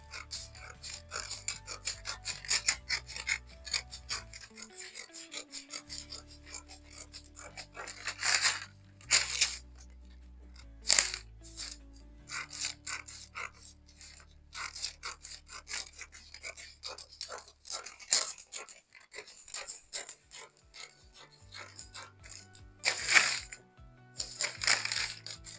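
Paper bodice pattern being cut out with scissors: repeated crisp snipping and rustling strokes, close and fairly steady, with a few louder crinkles of paper being handled.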